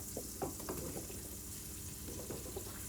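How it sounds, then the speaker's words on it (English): Mushrooms sauté in a hot pan with soft crackling sizzle and a few stirring scrapes, moderately close and steady, with no talking. "Mushrooms are going to go in. And we let them saute."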